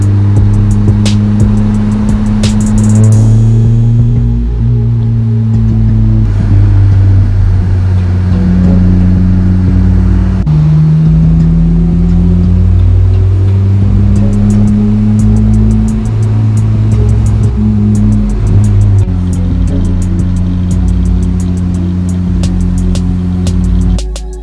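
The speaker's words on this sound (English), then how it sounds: "There were a lot of really cool roads that I took the Celica down, so I'm gonna insert a couple clips of that right here." A Celica GTS drives along winding scenic roads, its engine note loud and close, rising and falling through repeated revs and gear changes over about twenty-five seconds with no talking.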